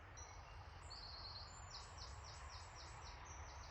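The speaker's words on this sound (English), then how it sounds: "I love that bird song though, don't you?" Faint, repeated bird chirps high overhead in a bluebell wood, a short run of rhythmic notes over a steady low rumble of distant traffic.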